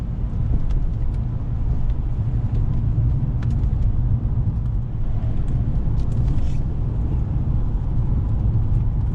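Continuous loud road rumble from a car on the move over a wet, slushy, curvy road on Toyo Celsius all-weather tyres, with steady hissing tyre noise and wind, no voices.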